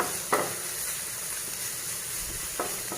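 Onion, green chilli and curry leaves fry in a pan with a steady close sizzle and hiss, broken by a couple of brief scraping stirs, with no talk.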